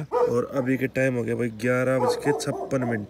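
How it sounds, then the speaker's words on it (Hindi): A pet dog barks and yips repeatedly at close range indoors around midnight, its sharp calls mixed with someone talking over them. "कुत्ता भौंक रहा है"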